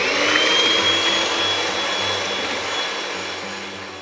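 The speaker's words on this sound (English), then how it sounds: "I've got in the bowl 450 millilitres of double cream, and I'm going to whisk this until it reaches soft peaks." An electric whisk whirs steadily through 450 millilitres of double cream in a bowl, a continuous close motor drone that fades slightly toward the end, heard alone without speech.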